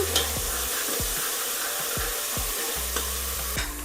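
A spoon scrapes rhythmically around a pan, about twice a second, stirring turmeric, ground onion paste and green chillies over a soft, steady sizzle.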